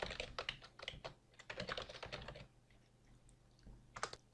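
Keys clacking on a computer keyboard as an email address is typed, in quick close bursts of keystrokes with short pauses between them, and one last burst near the end.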